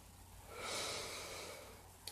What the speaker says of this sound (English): start with 3 deep belly breaths